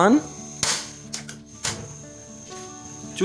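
Sharp clicking snaps of a gas stove igniter lighting a burner under a pot of water, several irregular clicks close by, with brief voice fragments at the edges.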